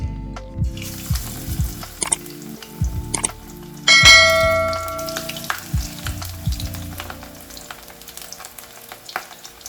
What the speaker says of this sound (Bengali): কড়াইটা গরম হলে সর্ষের তেল আন্দাজ মতো দিয়ে গোল গোল করে ছেড়ে দেবেন